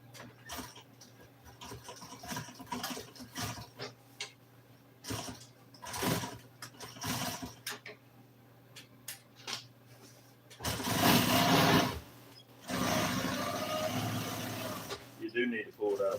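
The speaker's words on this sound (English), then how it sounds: "sew a little top stitch on it" A sewing machine top-stitching an F-100 pickup seat cover in an auto interior shop, two sustained loud runs of motor whir and needle clatter after stretches of talking and handling noise.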